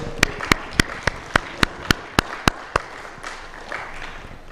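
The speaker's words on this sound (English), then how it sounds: "Please, let's give a round of applause for her." Scattered applause at a company annual general meeting, about ten sharp separate claps in a slow uneven rhythm, fairly close, over quiet room noise, then fading into soft background murmur.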